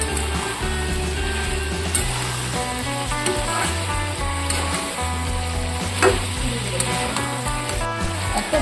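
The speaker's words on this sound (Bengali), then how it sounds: "দুটি সসের মিশ্রণ ঢেলে দিচ্ছি।" A tomato and green chili sauce mixture for Bengali-style chana masala sizzles loudly in a pan, with a spoon stirring and scraping in irregular strokes throughout; no talking.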